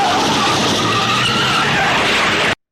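Tires skid and squeal continuously as a car swerves through evasive maneuvers in a 1986 action film, a loud, sustained screech over engine roar that cuts off abruptly.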